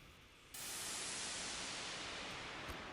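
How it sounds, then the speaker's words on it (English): A sudden burst of loud, steady white noise hisses across the whole range, continuous and unchanging after a brief quieter start. "throw in some white noise, which sounds like this."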